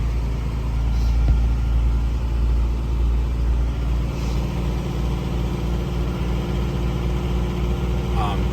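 A car with a 2-liter four-cylinder engine idles steadily after a cold start, a continuous low rumble with a smooth, even hum that holds constant throughout, close by and fairly loud.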